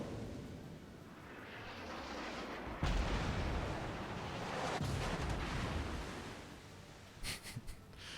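Ship guns booming in a naval video game, a few heavy thudding blasts spread over several seconds with rumbling tails, followed by a quick cluster of sharper cracks near the end.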